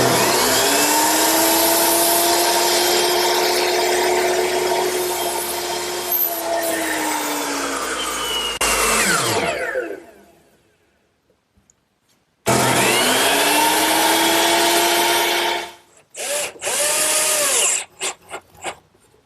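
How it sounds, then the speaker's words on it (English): A power saw tilted to a 13-degree bevel cuts 2x4 roof rafters, loud and close, in two long whining cuts separated by a few seconds of silence. The motor winds down after each cut, and there are a few short blips at the end. "Now I'll just tilt my saw to 13 degrees, the same bevel that we used on the ridge and the fascia, and that'll be the right cut for the rafters."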